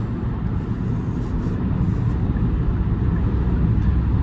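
A 2024 Hyundai Kona Electric accelerating on a highway, heard from inside the cabin as a steady loud low road-noise rumble with tire roar that holds constant throughout, with no talking.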